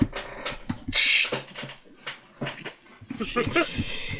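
A dog whimpers and whines in short, uneven bursts close by, broken by rustling and clatter, with a little talk mixed in.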